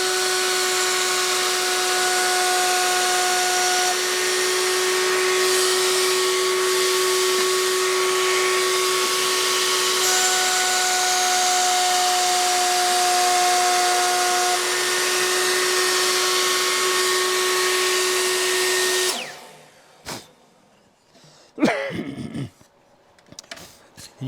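A wood router with a straight bit whines loudly and steadily while cutting a stopped groove in a wooden dovetail-jointed box side, then winds down and stops, followed by a few handling knocks.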